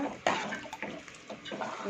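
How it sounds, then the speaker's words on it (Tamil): Tamarind water poured into a pot of sambar with castor-oil dal and mixed vegetables, a close, steady splashing pour with brief surges, a faint voice briefly beneath it. "இப்போது புளி தண்ணி எவ்வளோ உங்களுக்கு தண்ணி வேணுமோ அதை நீங்கள் குவான்டிட்டி பார்த்து விட்டுக்கோங்க"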